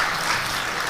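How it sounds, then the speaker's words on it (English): Guests at a scholarship dinner clap, a brief dense wash of steady applause with no pauses. "Feel free to clap loud."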